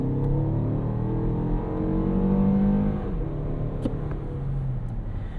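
A 2024 Toyota Grand Highlander SUV with its 2.4-liter engine pulls hard on a winter road, heard from inside the cabin as a steady droning engine note that climbs in pitch, then eases off, with no talking.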